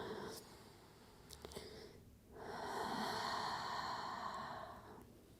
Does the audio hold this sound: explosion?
no